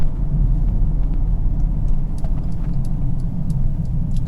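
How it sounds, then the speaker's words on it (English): A 2022 Mercedes GLB35 AMG compact SUV driving steadily gives a loud, constant engine and exhaust rumble, with faint crackling burbles and ticks over the drone. "you get a little bit of burbles too."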